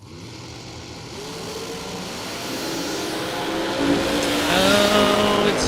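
A drag racing car at a bracket racing event roars loudly and close by, its engine note climbing steadily in a continuous rising rev for the whole stretch with no talk over it.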